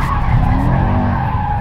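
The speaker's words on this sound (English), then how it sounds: "And then a little drift mode test." A Mercedes-AMG E63S wagon drifts in drift mode, its tires letting out a loud, sustained skidding squeal close by, with engine roar underneath.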